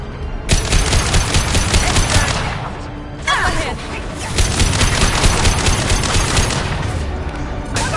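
Sustained rapid automatic gunfire in Mass Effect 2 during a firefight across a conveyor line, loud and close, with a short dip in the middle before the shooting resumes, and voices talking over it.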